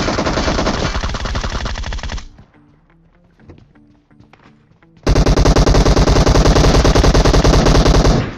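Rapid automatic gunfire in a battle royale shooter game, loud sustained bursts of shots that pause for a few quieter seconds of faint in-game sounds before another long, dense volley erupts.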